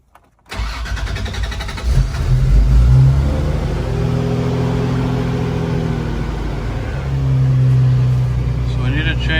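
A Toyota 4Runner with a swapped 3.4 engine cranks and fires on its first start, catching after a brief silence, revving up and settling into a rough, loud idle that swells again near the end.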